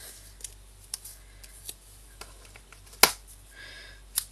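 Sharp snips of scissors cutting card and ribbon for a girl's birthday invitation, with a few scattered light clicks and two louder, crisper cuts, heard up close with no talk.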